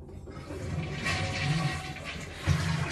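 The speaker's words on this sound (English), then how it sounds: "That's courtesy flushing." Toilet flushing close by, a rushing, gurgling swirl of water that rises and holds for a few seconds with no talking.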